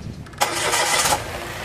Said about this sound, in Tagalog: balik ko itong engine cap nya, tapos ipa-start ko itong makina